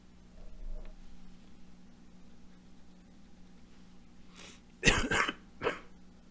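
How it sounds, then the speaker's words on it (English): A burst of two or three harsh coughs close to the microphone, following a quiet stretch of room noise. "That cough kind of snuck up on me."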